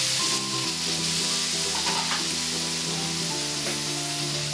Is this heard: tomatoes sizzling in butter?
yes